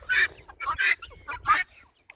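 Barred Rock hens in molt cluck in four short, bright bursts at close range, spaced about half a second apart, with no talking over them.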